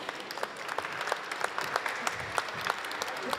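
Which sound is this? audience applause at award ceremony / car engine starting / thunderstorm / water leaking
audience applause at award ceremony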